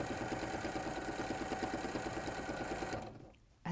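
A sewing machine stitches freehand swirls, a fast, steady mechanical whirr with even needle pulses running close and loud for about three seconds, then slowing and stopping near the end, with no talk over it.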